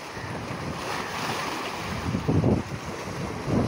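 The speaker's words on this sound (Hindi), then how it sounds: "हवा बहुत तेज़ है" Strong wind blowing hard across the microphone at a Karachi seashore, a steady loud roar mixed with breaking surf and gusts swelling toward the end.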